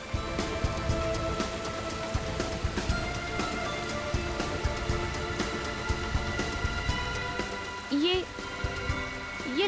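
Steady rain patters on a surface throughout, a dense even hiss of drops, with a brief voice-like sound near the end.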